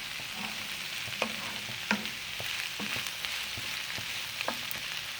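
Sliced bell peppers sautéing in a hot pan for a vegetable spaghetti dish, a steady close sizzle broken by scattered clicks and scrapes as a utensil stirs them.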